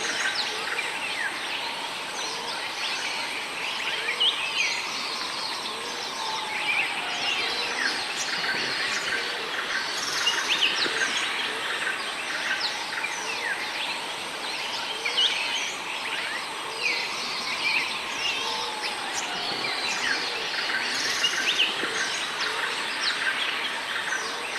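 Dense chorus of bird calls in a Thai rainforest, with hornbills among them, chattering steadily and continuously at moderate distance over a busy wall of chirps and tweets, no voices present.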